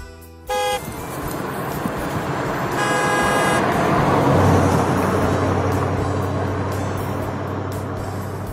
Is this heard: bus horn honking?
yes